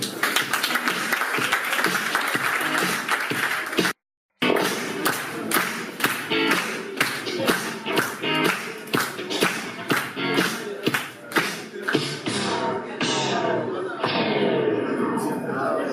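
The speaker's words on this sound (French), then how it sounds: "Applaudissez pour lui, s'il vous plaît" A comedy club crowd in Cotonou applauds a comedian taking the stage: dense, loud clapping, briefly cut off, then resuming with strong regular rhythmic claps that thin out toward the end, with some shuffling and voices underneath.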